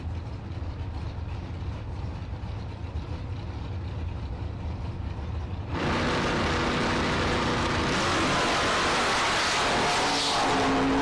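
Orange Camaro and white-and-black Camaro launching side by side at a bracket drag race, a low rumble building into a loud, broadband engine roar that swells and holds as the cars run down the track.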